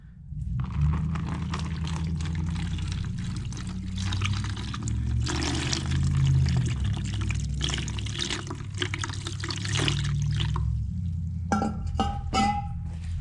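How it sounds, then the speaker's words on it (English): Clean water is poured steadily over rust dissolver gel on a Honda Civic build, a continuous splashing pour lasting several seconds, followed by a few brief clicks and knocks. "I got some clean water in here. I'm gonna go ahead and dump this over it."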